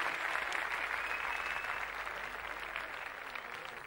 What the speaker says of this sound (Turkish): Tüm jüri üyelerimize bir alkış alalım